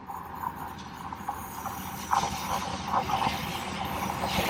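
A freight train on a line running right along the coastline, a distant low rumble with faint metallic squeals and clanks rising slightly toward the end.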